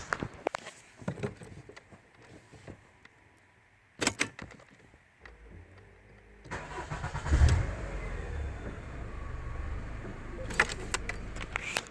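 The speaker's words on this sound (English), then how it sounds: "So I'll start it up now." A car with a newly replaced battery, sitting at just under 13 volts, cranks and starts; keys jangle first, then the engine catches around the middle and settles into a steady idle, fairly close.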